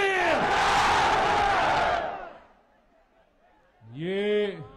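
A large political rally crowd in Abbottabad roars a chanted slogan in unison after a Takbeer call, a loud sustained mass shout lasting about two seconds, followed by a pause and a single voice calling out again.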